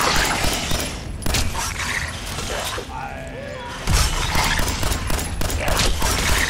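Video game gunfire from a horror shooter: dense, continuous shooting with sharp bursts fills the scene, a brief lull midway, then a heavy impact and renewed rapid fire, with voices mixed in.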